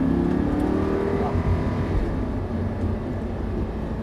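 A Lamborghini LP 560-2 with rear-wheel drive accelerates hard on the Dreux race circuit, its engine roaring loud and steady throughout with a rising pitch.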